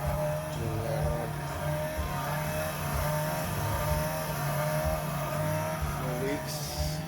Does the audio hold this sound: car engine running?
yes